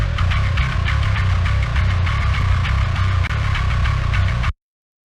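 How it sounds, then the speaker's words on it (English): A deep, thunderous metal bass guitar track plays soloed, its gnarly distorted low end droning steadily and loud with picked notes pulsing for about four and a half seconds before cutting to silence. "It's a very deep, thunderous, like subby bass guitar low end."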